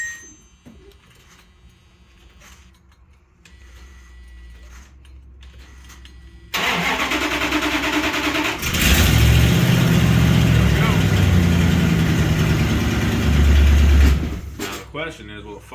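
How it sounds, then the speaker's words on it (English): Starter cranking and an engine catching on a 1990 Dodge Ramcharger after a fuel pump swap, the motor firing up loud and close and settling into a steady idle after a quiet stretch of faint key and background noise. "cycle the key a couple times, prime the pump, and hopefully she fires up for you"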